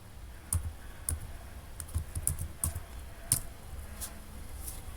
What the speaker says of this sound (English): Just go in, type loom.com.